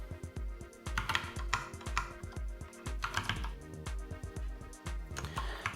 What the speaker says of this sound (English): I will type Heimdall